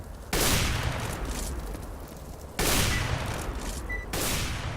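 Rapid gunfire in the game CS:GO: dense bursts of automatic shots rattle continuously, swelling into louder volleys near the start and again around the middle and end, with no talk over them.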